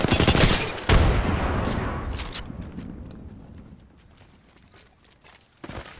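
Gunfire in a battle royale video game, opening with a loud close burst of rapid shots, then a sharp blast and a long fading rumble, followed by scattered quieter distant shots and a final short burst.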